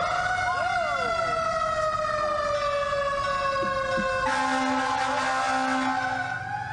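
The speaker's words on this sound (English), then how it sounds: "the siren rang in San Francisco this morning to remember those lost in the 1906 earthquake" A commemorative siren sounds across San Francisco in remembrance of the 1906 earthquake, several overlapping rising and falling wails carrying loud and steady throughout, swelling in intensity partway through.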